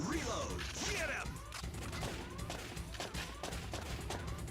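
In the arcade shooter Time Crisis, a dense barrage of gunfire with ricochet whines and mechanical clatter plays loudly throughout, with a voice faintly underneath.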